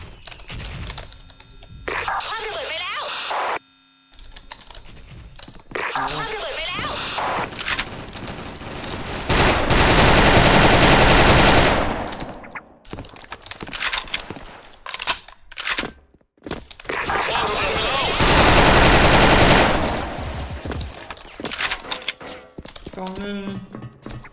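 Bursts of rapid gunfire in the game Special Force erupt in loud sustained volleys, with mechanical clicks and a voice talking in Thai between the shooting.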